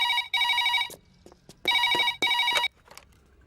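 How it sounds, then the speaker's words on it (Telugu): A telephone rings in bursts: two long trilling rings and a shorter one, separated by pauses, close and clear, with no talking. "15 గంటలో రింగ్ ఇస్తానంది."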